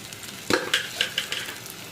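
Crushed garlic and pepper powder sizzling in hot oil in a pan, a steady crackling fry broken by several short clinks and stirs, close and clear.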